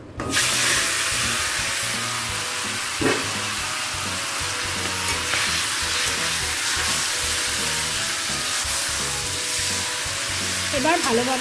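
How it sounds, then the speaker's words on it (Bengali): Marinated chicken hits hot oil seasoned with dried red chillies and sets off a loud, sustained sizzle and spitting hiss close to the pan, with stirring clatter running through it. "এবারে ম্যারিনেট করে রাখা চিকেনটা দিয়ে দিচ্ছি।"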